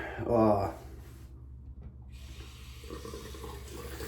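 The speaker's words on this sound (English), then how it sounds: "Gonna turn the hot water on, heat up the blade a little bit" Hot water runs from a bathroom tap to warm a razor blade before a wet shave, a steady close splash following a brief burst of speech.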